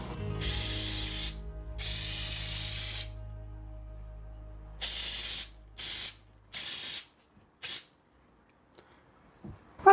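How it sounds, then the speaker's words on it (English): Pam baking spray, a flour-containing aerosol, hisses into a cake pan in several bursts: two long sprays, then a series of shorter squirts, close and loud with silence between. "Going to use the Pam baking spray."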